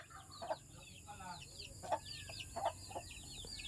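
Hens and a rooster at a Philippine provincial home cluck in short, repeated bursts, faint and somewhat distant, over a low steady background hum.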